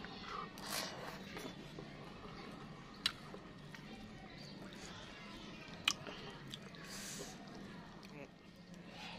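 Spicy-sweet chicken feet with enoki mushrooms are chewed close to the microphone in soft, wet, squishy bites with a couple of sharp clicks, while a voice talks quietly underneath.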